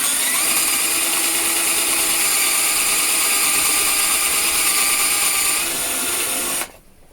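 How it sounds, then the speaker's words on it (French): A power drill runs continuously for about six and a half seconds, boring holes again during a DIY setup build, a loud steady whine that stops abruptly near the end. "Je vais repercer encore un peu."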